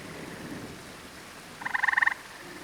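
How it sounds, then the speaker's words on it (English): A gray tree frog calls from a pond in the rain, giving one short burst of rapid pulsed trills that rises clearly over a soft, steady wash of rainfall. "The lone gray tree frog that migrated to the pond earlier seemed to like the rain"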